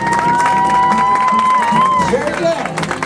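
Audience cheering and clapping for ribbon dancers at a Disneyland Lunar New Year family event, a loud steady crowd roar with a sustained tone running through it.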